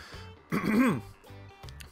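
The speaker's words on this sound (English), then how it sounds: "clearing my throat again for this one here" A man clears his throat once, a short rough guttural rasp close to the microphone, framed by brief quiet voiced sounds.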